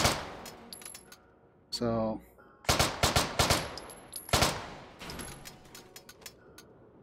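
A Walther MP submachine gun fires in the VR shooter Hot Dogs, Horseshoes & Hand Grenades: sharp close bursts and single shots, with a rattling mechanical action partway through. A faint voice speaks briefly.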